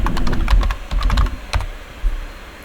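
A password is typed on a computer keyboard in rapid irregular bursts of close, crisp key clicks that thin out toward the end, with no talk.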